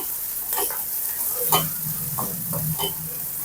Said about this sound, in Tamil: வெங்காயம் மட்டும் ஒரு 3 நிமிஷமாவது நல்லா வதங்கணும்.